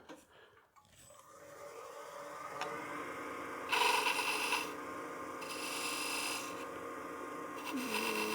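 A skew chisel cuts spiral grooves into wood spinning on a lathe. A faint motor hum runs throughout, broken by several short, rough bursts of scraping where the tool meets the turning wood.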